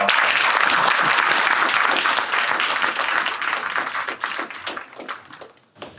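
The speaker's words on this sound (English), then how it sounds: "So big round of applause for TIBCO." Applause at a product meetup crowd for the event sponsor: full, loud clapping that gradually thins into scattered individual claps and fades out near the end.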